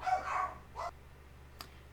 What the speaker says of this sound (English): my dogs have finally stopped barking now